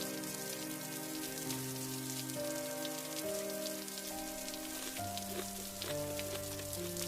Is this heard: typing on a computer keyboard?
no